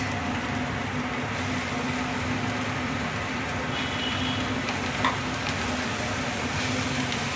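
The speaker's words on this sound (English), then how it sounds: "This we should saute for 2 to 3 minutes." Vegetables sautéing in a pan for a veg paneer momo filling: a steady, dense sizzle with faint stirring clicks, continuous and close, with no talk over it.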